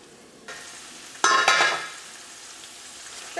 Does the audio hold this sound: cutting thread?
no